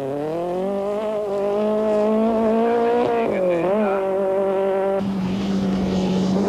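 A Class C Volkswagen Golf rally car on a 1995 rally stage, its engine roaring loud and close at a steady high pitch, dipping and surging briefly mid-run before settling into a rougher, lower drone.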